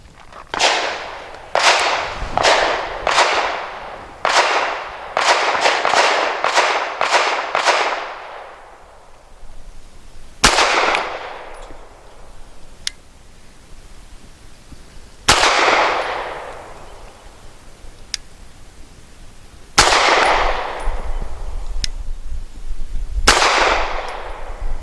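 SAR USA B6C pistol firing Nosler Match 115 grain hollow points at an outdoor range, a rapid string of sharp cracks with ringing decays, then slower single shots spaced several seconds apart, loud and close.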